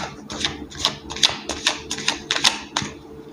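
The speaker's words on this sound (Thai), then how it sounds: "ใช้ไพ่หลายสำรับสลับ ปะปนกันไป" Several decks of tarot cards shuffled by hand, giving a run of about eight crisp, evenly spaced riffling snaps close by, with no talking.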